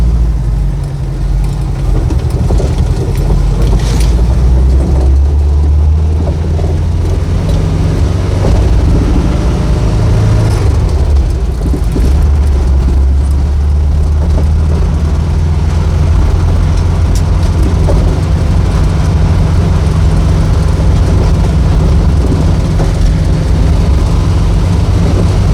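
A 1972 Saab 95 wagon drives along with a steady low engine drone and road rumble heard from inside the cabin, rising and easing slightly over about half a minute.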